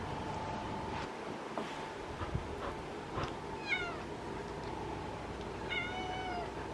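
An orange cat named Millie meows in a few drawn-out, talkative calls, close and clear over a steady background hiss.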